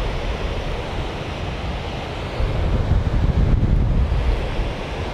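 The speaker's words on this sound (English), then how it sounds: "14 kilometre an hour wind coming from the sea" A 14 km/h sea breeze buffets the microphone in steady gusts, a loud, broad rushing roar that swells about halfway through, with no voices.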